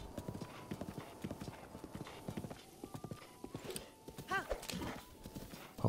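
Hooves clip-clop in a steady galloping rhythm as a horse is ridden through woodland in The Legend of Zelda: Breath of the Wild, with a brief whinny near the end and a voice talking quietly underneath.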